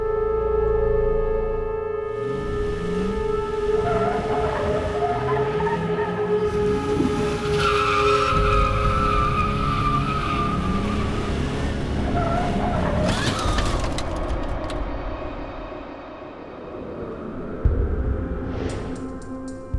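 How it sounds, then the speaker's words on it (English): Car tires spinning and skidding on pavement, a sustained loud squeal with shifting tonal whine and engine roar throughout, close and continuous, easing briefly near the end before a sharp burst. "the rubber is burnt into the pavement, something that's caused by spinning tires."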